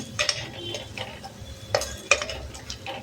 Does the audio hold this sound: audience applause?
no